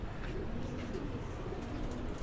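Rampuri pigeons, a jumbo-size breed, coo softly in a low steady murmur beneath a constant background hum, close by and continuous.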